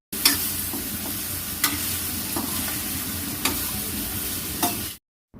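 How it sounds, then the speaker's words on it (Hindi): Ridge gourd tempered in a hot pan gives a steady, loud, close frying sizzle throughout, broken by a few sharp clicks of stirring, before it cuts off abruptly near the end. "छौंक दी है तरोई की सब्ज़ी,"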